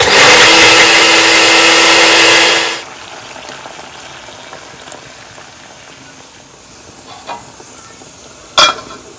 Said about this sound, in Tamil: மிக்சியில் போட்டு ஒரு அரை அரைச்சி உள்ளே விட்டுடலாம்